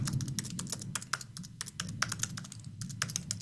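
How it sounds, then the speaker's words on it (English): Fast typing on a computer keyboard, a dense run of close, sharp key clicks with small pauses between bursts over a low background hum, no one talking. "After all this time, despite how fast I type, I still have to look at the keyboard."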